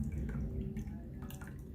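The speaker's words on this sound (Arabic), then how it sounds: "واحط كمان نص كوبايه ليمون، نص كوبايه ليمون اهي" Half a cup of lemon juice poured into a sugar pickling brine, heard as a soft trickle with a few light drips over a low background hum.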